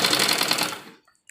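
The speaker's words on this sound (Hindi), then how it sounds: "तो हम इसमें आधा इंच का कपड़ा लेकर सिलाई लगाएंगे" Close, loud rapid stitching from a sewing machine running a half-inch seam on an embroidered blouse sleeve, a quick chattering burst that stops abruptly, followed by a couple of faint clicks.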